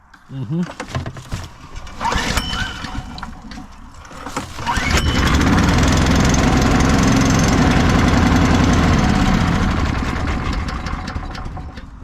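A Harbor Freight small engine on a used Agri Fab leaf vacuum starts after a few quieter handling sounds and runs loud and close, a steady roaring drone for the rest of the clip.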